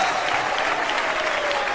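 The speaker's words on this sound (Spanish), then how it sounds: "te aplaudimos por tu grandeza" Steady applause from a crowd, a continuous wash of clapping that holds at an even level throughout.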